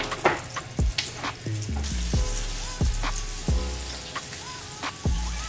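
Chicken fries in hot oil with a steady sizzle and repeated sharp pops and crackles throughout, close and fairly loud, with no talk.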